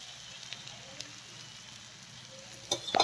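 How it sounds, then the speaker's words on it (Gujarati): Uttapam made from batter frying in oil on a hot griddle, flipped and pressed to crisp, giving a quiet steady sizzle that swells into louder crackling pops at the end. "બીજી બાજુ પલટાવી અને પ્રેસ કરી અને શેકી લઈશું। થોડું તેલ એડ કરીશું એટલે ક્રિસ્પી થાય।"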